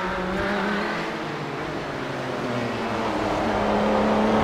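Kamel GT race cars lapping Snetterton in iRacing, a steady dense engine roar from several cars close together that holds at an even, loud level throughout with no voices.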